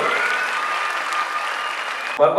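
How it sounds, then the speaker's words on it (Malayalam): A crowd claps steadily at a public gathering, dense sustained applause that cuts off abruptly near the end as a voice begins. "കയ്യടി കൊടുക്കണം പുള്ളിക്കാർക്ക്"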